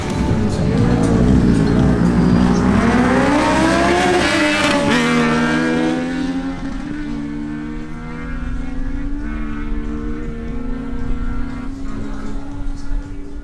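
Two motorcycles, a Kawasaki Z1000 and a Yamaha MT-09, at a drag race: a loud engine note revs and climbs hard at the launch, then settles into a steady high drone that fades slightly as the bikes pull away.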